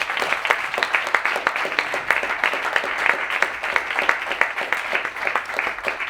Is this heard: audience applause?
yes